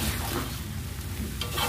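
Tofu and tempeh stirred in a bacem spice mixture in a pan, a dense continuous hiss of sizzling with soft scraping movements, close and steady with no talk.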